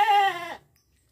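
One of a small herd of goats gives a single loud, close, wavering bleat that stops after about half a second, followed by near silence.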